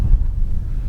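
Heavy wind buffets the microphone, a steady low rumble with gusty fluctuations throughout and no voices.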